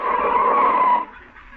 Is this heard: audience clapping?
no